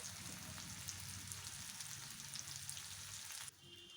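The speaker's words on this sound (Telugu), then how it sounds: "టమాటా ముక్కలు ఉల్లిపాయ ముక్కలు వేసి వేయించుకోవాలి" Tomato and onion pieces fry in a pan with a steady, close sizzle and crackle that dips slightly near the end.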